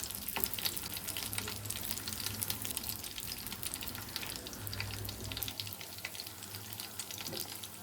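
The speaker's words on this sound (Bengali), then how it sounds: "এখানে তেল গরম হয়ে আসলে একটা একটা চিংড়ি দিয়ে দিচ্ছি" Shrimp frying one by one in oil over low heat, a faint, steady crackling sizzle with soft background hum, no voices.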